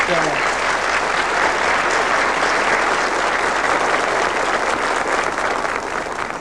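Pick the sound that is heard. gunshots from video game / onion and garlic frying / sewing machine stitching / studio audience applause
studio audience applause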